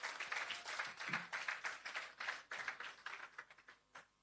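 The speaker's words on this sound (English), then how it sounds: "Give her a round of applause, guys." Thin, sparse clapping from a small audience at an outdoor shelter-programme handover ceremony, individual claps audible in uneven bursts that taper off over about four seconds.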